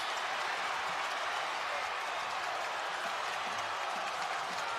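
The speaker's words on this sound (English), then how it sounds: "place is going nuts." Crowd at a Virginia AA high school basketball state championship, Gate City against Robert E. Lee, cheering and roaring after a dunk: a dense, steady wall of crowd noise that holds loud and unbroken throughout.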